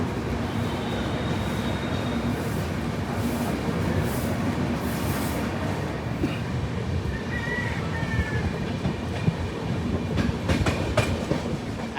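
The 12353 Howrah LalKuan Express pulls out of Bardhaman station, a steady close rumble of rolling carriages with continuous wheel clatter and rail noise throughout, no voices.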